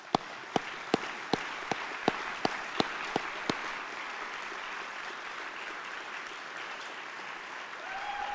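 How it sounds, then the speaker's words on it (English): An audience at Chandler Center for the Arts applauds the Mayor's Youth Commission during a State of the City address, a steady distant wash of clapping with a few sharp, close claps standing out early before it fades. "Let's give them a round of applause."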